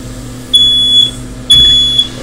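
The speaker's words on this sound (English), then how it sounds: "that's a smoke alarm because the fume extractor doesn't do anything" A smoke alarm gives two loud, high-pitched beeps, each lasting about half a second, over a low background hum, during MacBook liquid-damage repair with hot soldering work and a fume extractor.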